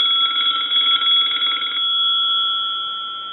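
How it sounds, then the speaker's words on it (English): Brass Touch Tone telephone bell ringing with a rapid, somewhat muffled metallic trill that stops partway through, leaving a fading tone. "So they're not like have a super loud ring on them."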